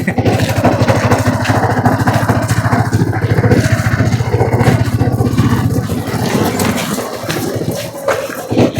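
A Yamaha R15 motorcycle being ridden, its engine droning loud and close in a steady, continuous run that eases slightly near the end.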